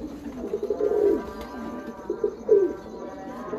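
Breeder pigeons cooing close by, two soft throaty rolling coos separated by a pause, over a faint background hum.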